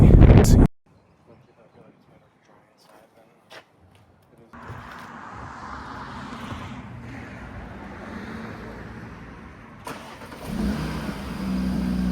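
A loud 8V Audi RS3, APR tuned, with an aftermarket full exhaust and exhaust cutter, rumbles and revs with a deep, throaty exhaust, rising in intensity near the end after a brief quiet stretch.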